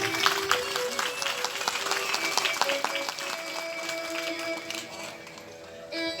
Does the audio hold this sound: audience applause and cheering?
yes